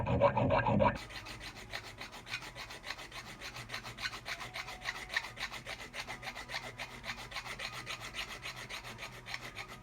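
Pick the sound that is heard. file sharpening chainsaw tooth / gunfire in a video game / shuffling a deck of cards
file sharpening chainsaw tooth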